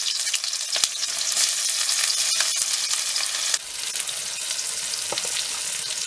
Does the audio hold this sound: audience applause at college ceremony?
no